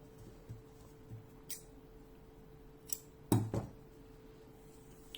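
Scissors cut through yarn for a tassel: a quiet room with a couple of faint ticks, then a quick pair of sharp snips near the end.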